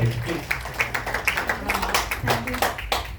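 An audience at a direct-selling RCM event claps steadily in rapid, dense applause that fills the room throughout.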